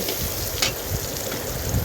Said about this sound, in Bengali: মাছটা মরিচ পেঁয়াজ মশলার সাথে যখন ভাজা ভাজা হয়ে যাবে